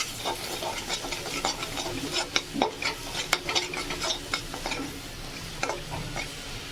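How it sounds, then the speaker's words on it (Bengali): A spoon stirs Kashmiri chili powder into Rui fish curry in a hot pan, with quick, irregular scraping knocks close by over a steady low sizzle of frying oil. "দিয়ে এবার ভালো করে নাড়িয়ে দেবেন।"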